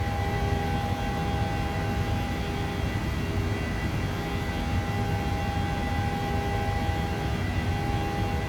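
A PMDG 737-800 jet climbs out of Tampa in Microsoft Flight Simulator, a steady, even cockpit engine drone with broadband roar and faint tonal hum, constant and uninterrupted, no voices.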